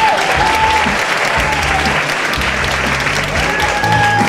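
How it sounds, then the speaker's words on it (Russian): A television studio audience breaks into sustained, loud applause after a song is performed, with dense clapping filling the whole stretch. "Ваши аплодисменты, друзья"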